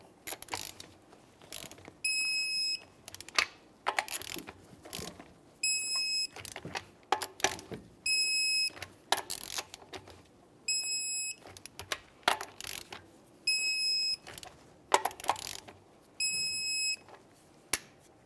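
A torque wrench beeps in short high bursts, roughly every two seconds, amid ratcheting clicks while the lug nuts on a 2002-2009 Chevrolet Trailblazer wheel are tightened to 103 foot-pounds in a crisscross pattern.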